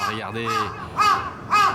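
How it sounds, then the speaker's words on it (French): Crows cawing in Osaka, Japan, several harsh calls in a row rising over someone speaking French nearby, with the loudest caws near the end. "les corbeaux au Japon sont extrêmement méchants"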